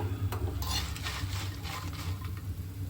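Spices fry in a pan in a home kitchen while a spoon stirs and scrapes steadily, soft sizzling under repeated metallic clinks, close and fairly quiet.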